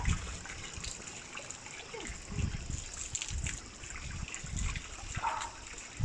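Cool water is poured and splashes while a young rescued dog is bathed on a hot day, with irregular gushes and trickles nearby and speech over the top.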